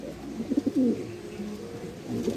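A pigeon coos in a short burst of low, throaty rolling notes, fairly close, over a soft steady background murmur.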